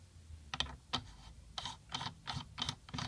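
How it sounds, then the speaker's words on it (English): A tight nose piece on a ZWO ASI 178 MC astronomy camera is twisted loose by hand, producing a run of about eight dry, close clicks and ratcheting scrapes at an uneven rhythm. "unscrew your normal nose piece, which is going to be pretty tight"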